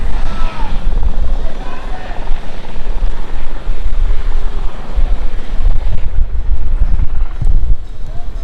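A helicopter drones steadily nearby in the mountains around Badrinath, its broad rumbling rotor noise filling the whole stretch, with a voice talking over it.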